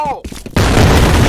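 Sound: grenade explosion with gunfire in the video game F.E.A.R. Combat

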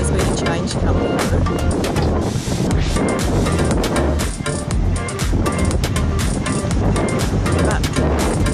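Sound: wind whistling through coastal rocks

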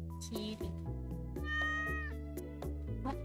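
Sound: cat meowing in the video game Stardew Valley

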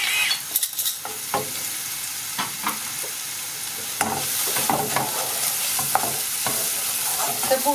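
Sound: onions frying and being stirred in a pan

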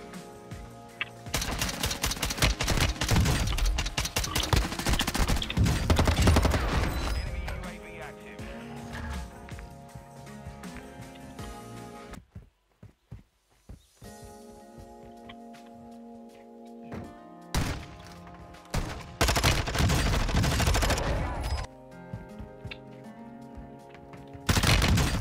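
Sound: gunfire in Call of Duty MW2 video game

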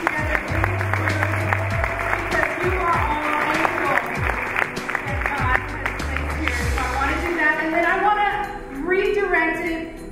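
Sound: audience applause at a gala

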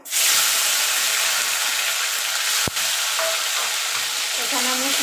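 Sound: nigella seeds and tomato sizzling in hot oil

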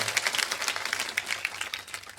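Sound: audience clapping for the pakhawaj player

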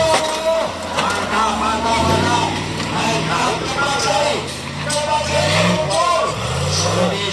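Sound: Corvette V8 engine in a racing video game

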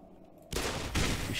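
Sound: gunshots in the video game Black Mesa

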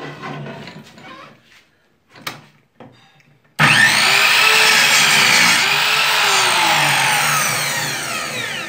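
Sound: Vonder cut-off saw cutting

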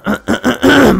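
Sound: coughing

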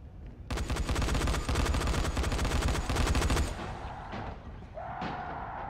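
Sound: gunshots in Dying Light video game

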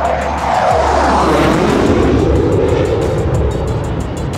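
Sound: Oris Swiss Hunter jet flying past

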